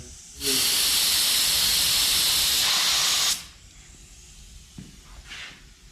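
Budget paint spray gun running at 29 PSI with the fan pattern wide open, giving a loud, steady hiss of air and paint for about three seconds before cutting off, followed by quiet room noise and a couple of small knocks.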